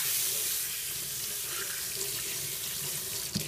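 A bar of oatmeal soap is rinsed under a running tap, giving a steady close splashing of water over a sink for a few seconds, with a brief knock near the end.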